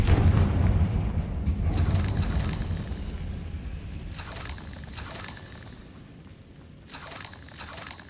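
Confringo blasting spell in the Hogwarts Legacy video game, a deep booming explosion at the start that rolls and fades away, followed by scattered quieter impacts and crackles.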